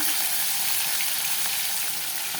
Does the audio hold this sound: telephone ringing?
no